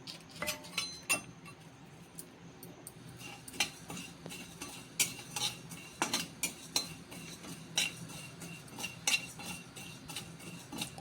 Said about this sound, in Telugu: జీలకర్ర వేయించుకుందాము.